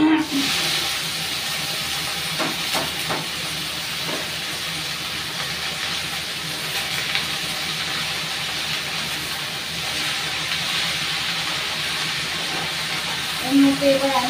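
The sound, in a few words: leafy greens added to hot oil, sizzling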